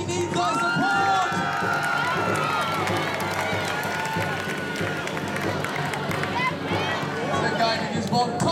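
Crowd cheering and calling out at a Renaissance Faire joust at the New York Renaissance Faire, a dense, steady roar of many voices with shouts rising over it, loud and continuous throughout.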